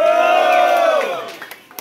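Crowd at a rap battle roaring and shouting together in one loud burst that fades out over a couple of seconds.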